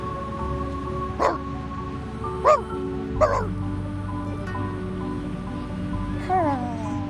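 A puppy in the video game Reverse: 1999 gives short yips and whimpering barks, about four separate calls spaced a second or more apart over a low steady background hum.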